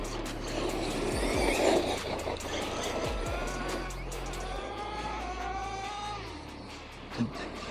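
Monster RC car driving at half throttle, a buzzing electric motor whine rising and falling as it accelerates and eases off, close by with gravelly rolling noise and a short thump near the end.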